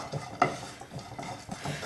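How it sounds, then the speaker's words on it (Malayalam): Nuts being roasted in a pan for homemade chocolate give soft, close scraping and stirring sounds with light rattles and a faint sizzle, repeating irregularly without talk. "നട്ട്സ് ഇതിലിട്ടൊന്ന് റോസ്റ്റ് ചെയ്തെടുക്കാം."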